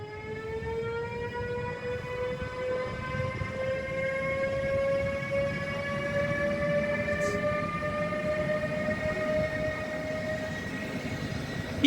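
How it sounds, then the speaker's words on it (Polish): A Vectron electric locomotive starts off at Warszawa Wschodnia station, its rising electric whine of stacked tones climbing steadily over a constant rolling rumble for the whole stretch, with no talking. "Wektron rusza"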